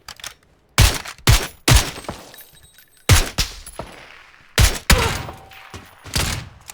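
Loud, sharp gunshots in PUBG ring out as separate single cracks and short pairs, with brief echoing tails and quiet gaps between the shots.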